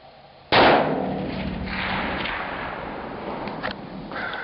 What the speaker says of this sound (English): That was a loud gun